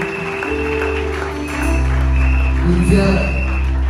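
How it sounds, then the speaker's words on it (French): A church congregation breaks into applause that swells after a moment and carries on steadily, mixed with voices and music in a large worship gathering. "est-ce qu'on peut applaudir?"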